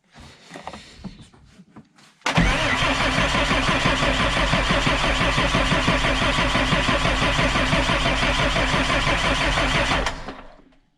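A car engine that had run out of fuel cranks briefly, catches and starts, then runs loud and steady close by for about eight seconds before cutting off, with softer knocking and handling noises before the start.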